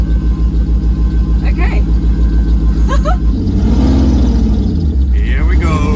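A concept car idles with a deep, pulsing rumble, then the engine note swells as it pulls away in first gear, with someone speaking briefly and some light clicks over the drone.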